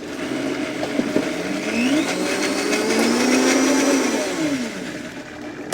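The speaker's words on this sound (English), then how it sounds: "we'll put the top on the blender and make a puree out of that cilantro and" A blender pureeing cilantro, garlic and salt in a kitchen: a continuous loud motor whir that rises and falls in pitch as the contents churn, lasting throughout.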